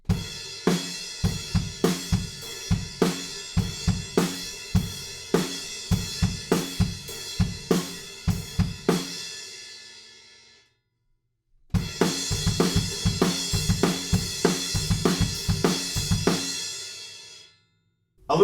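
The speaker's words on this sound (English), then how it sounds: "I'm up on the crash cymbal, and the groove's going to sound like this." Drum kit groove on the crash cymbal for the chorus of a song: steady loud kick and snare hits under a washing crash, a brief pause, then the groove resumes and rings out.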